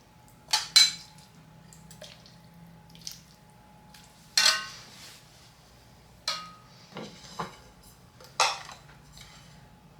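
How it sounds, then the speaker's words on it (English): Orzo soup is ladled into a bowl, with a few sharp clinks of a utensil against pots and dishes, separated by soft liquid pouring and quiet pauses. "Let's go ahead and make a bowl of soup."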